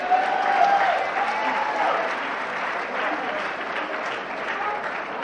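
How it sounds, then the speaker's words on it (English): An audience applauds Velma at a Narcotics Anonymous meeting, steady dense clapping that slowly tapers over five seconds, with a faint voice briefly heard near the start. "Can we give Velma another round of applause?"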